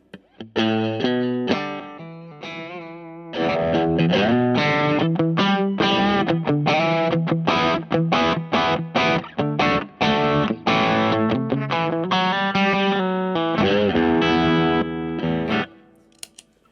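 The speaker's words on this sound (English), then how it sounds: "So that was the overdrive setting, the OD setting. Let's go to the distortion setting." A heavily distorted electric guitar through an MXR Duke of Tone overdrive pedal on its distortion setting plays loud chords and riffs with sustained, buzzing tone and short pauses between phrases, ending with a fade.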